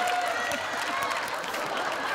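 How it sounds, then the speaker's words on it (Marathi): Studio audience clapping on a Marathi comedy show, a steady spread of handclaps at moderate distance, with faint crowd murmur underneath. "जोरदार टाळ्या वाजवा"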